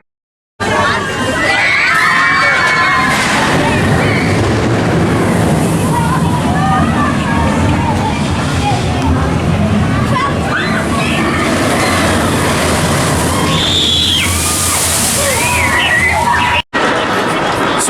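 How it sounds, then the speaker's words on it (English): Water crashes and sloshes in the SheiKra splash zone at Busch Gardens Tampa, a loud, continuous wash of spray beneath a crowd of children shouting, cheering and chattering nearby. "I just went in the splash zone for SheiKra, and yeah, it's a great way to cool down"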